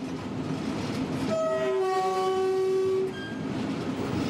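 A train crossing the Tunisian desert on the old phosphate line sounds a long, loud horn of two tones over the steady rumble of the carriages, then the horn cuts off and the rolling noise continues.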